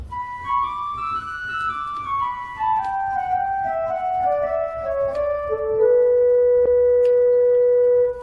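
A soft, breathy doppel flute stop on a church pipe organ plays a slow descending melody of sustained notes, ending on a long held tone.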